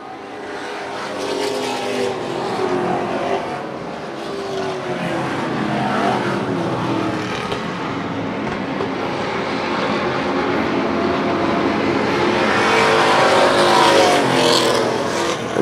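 Super street race cars roar around a track during a 100-lap race, engines droning loud and continuous as the pack passes, swelling toward the end.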